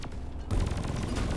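Gunfire in Deep Rock Galactic erupts suddenly after a brief lull, a loud rapid burst of shots that keeps rattling to the end.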